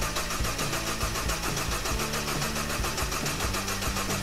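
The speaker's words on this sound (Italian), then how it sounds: "Ora non resta altro che provare a metterla in moto." A rebuilt car engine is cranked over. The starter whirs and churns in a steady, repeating pulse, loud and close, without clearly catching into an idle.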